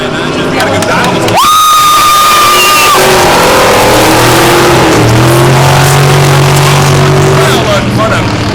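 Eight-cylinder dirt track race cars roar past at a live race, engines rising and falling in loud, overlapping revs while a crowd cheers and an announcer talks over the din.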